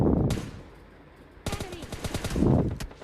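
An M4 rifle with no compensator fires in PUBG gameplay, starting with a short burst, then a quiet pause, then a longer rapid stream of sharp, close shots that builds to a dense final volley.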